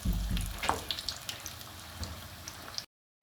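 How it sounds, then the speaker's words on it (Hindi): Cauliflower pakoras fry in hot oil with a continuous hissing sizzle and a few small pops, close and fairly even, before the sound cuts out abruptly near the end; no one talks. "ये गोभी है और इस तरह करके आप फ्राई करते जाए"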